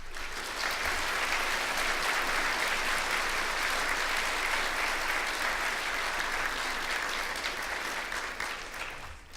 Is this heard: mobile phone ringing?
no